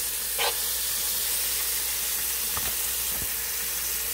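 Jamaican callaloo ingredients sizzle steadily in a hot pot, a continuous frying hiss with a few brief scrapes and clinks of stirring.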